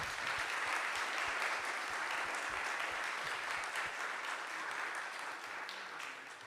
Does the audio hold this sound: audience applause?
yes